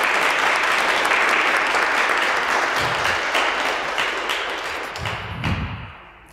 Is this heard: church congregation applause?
yes